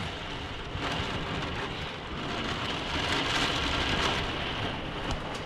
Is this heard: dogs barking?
no